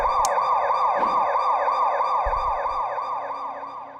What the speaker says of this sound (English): Police sirens for some reason.